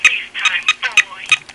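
Incoming call from a house phone ringing on an iPod touch set up as a phone: a rapid, repeating series of bright electronic chirps in a steady pulsing rhythm, close and clear.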